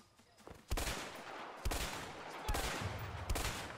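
Four heavy gunshots from a long-range weapon in the video game A Way Out, spaced roughly a second apart, loud and sharp with short echoing tails and no voices.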